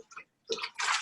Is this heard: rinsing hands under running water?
yes